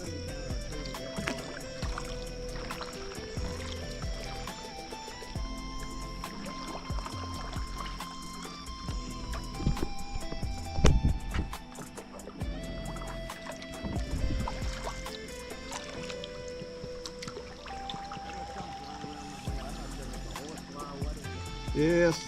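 A kayak is paddled along a narrow creek. Soft water splashes and paddle strokes sound close by over outdoor ambience, with people talking at times throughout.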